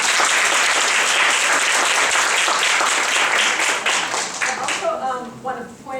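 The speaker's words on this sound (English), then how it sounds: "First of all, round of applause." Audience applause at an academic workshop panel session, loud and dense clapping that holds steady, then thins and fades into scattered individual claps near the end.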